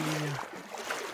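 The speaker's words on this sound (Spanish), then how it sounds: "Cruzando otro río." Water splashing and rushing around legs while wading across a river in the Amazon rainforest, a close, continuous wash of sound with a brief low tone at the start.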